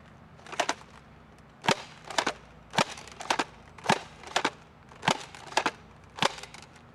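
Modified Nerf Ballzooka toy launcher firing darts, with a steady series of about a dozen sharp, snappy pops, often in quick pairs, close and fairly loud with no talking.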